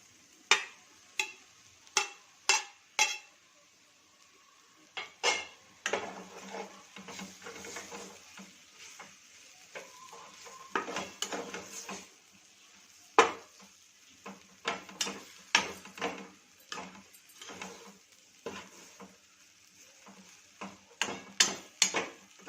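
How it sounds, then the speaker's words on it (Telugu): Cut pav pieces stirred into masala in a pan, a long run of quick, irregular scrapes and taps of a spatula against metal over a faint low sizzle, close and moderately quiet. "ఇప్పుడు పావు మనం ముందుగా కట్ చేసుకొని ఉంచుకున్నాం కదా, అవి ఇందులో మిక్స్ చేసుకోవాలి"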